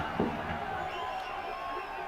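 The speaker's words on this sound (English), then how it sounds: "The crowd is going wild." A football stadium crowd roars throughout an AFC Challenge League match between Paro FC and Al-Shabaab, a broad sustained din of cheering and whoops with a brief louder burst near the start.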